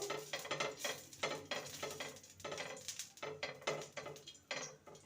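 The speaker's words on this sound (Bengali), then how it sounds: "গ্যাসে ফ্রাই প্যান চাপিয়ে দিয়েছি দিয়ে দেবো সামান্য রিফাইন অয়েল তেলটাকে ব্রাশ করে নেব" A brush spreads refined oil over a frying pan on a gas stove, making quick rhythmic swishing strokes in close, fairly quiet bursts with a faint sizzle beneath.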